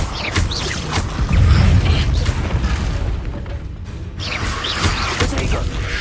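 The Confringo fire spell from Hogwarts Legacy blasts with deep booming bursts and crackling impacts amid a busy fight, while voices shout over the combat.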